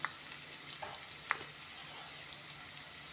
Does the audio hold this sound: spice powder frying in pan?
yes